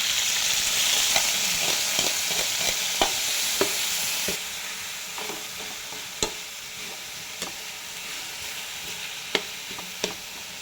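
Banana heart sautéing with ginger, garlic and onions in a pan, a steady hiss of frying broken by periodic sharp clinks and scrapes of a utensil stirring, close and unaccompanied by speech; the sizzle drops slightly partway through.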